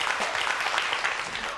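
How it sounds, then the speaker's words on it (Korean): Lecture audience applauding the speaker: a short stretch of steady, moderately loud crowd clapping, even in texture from start to finish. "오늘 정말 멋진 강연해주신 우리 곽현아 씨에게 큰 박수 부탁드립니다"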